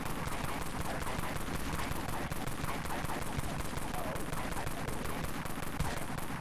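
Rapid AR-9 Silvertide assault rifle fire in the video game Dead Frontier, a dense, continuous stream of loud shots running steadily throughout with no pause.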